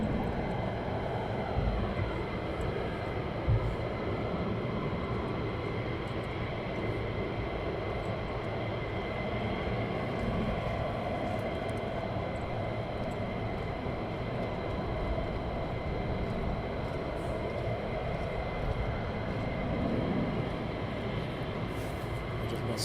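Military jets climb away from RAF Lakenheath in a continuous, rumbling roar that holds steady from a moderate distance across the whole stretch, with no voices.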